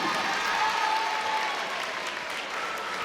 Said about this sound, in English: A big crowd tonight, senior night,